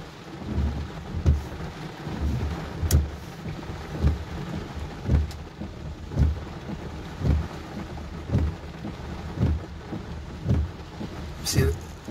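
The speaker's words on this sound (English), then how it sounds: "Look at the wind, look at the rain just now" Steady heavy rain roars close by in a wind storm in New Milford, Connecticut, punctuated by regular booming gusts or thumps, with a loud burst near the end.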